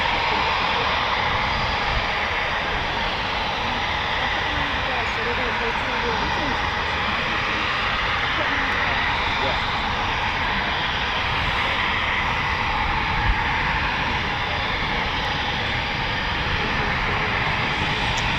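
A continuous loud roar from Eurofighter Typhoon FGR4 jet engines at RAF Coningsby fills the whole stretch evenly, with no break or change.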